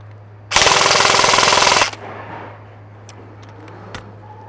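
An EMG Helios F4-15 airsoft AEG running on an 11.1 battery fires a loud, rapid full-auto burst of about 1.3 seconds, a dense buzzing rattle of shots, then falls to quiet room tone with a few faint clicks.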